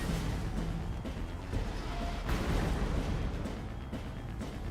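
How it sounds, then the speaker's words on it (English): Explosions in the Fantasian Neo Dimension video game: a dense, sustained rumble of booming blasts with sharper bursts near 1.5 and 2.3 seconds, loud and continuous without pause. "Another explosion."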